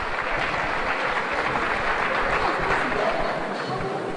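An audience applauds at a live televised event in Ghana, a steady wash of clapping lasting a few seconds with a voice speaking over it.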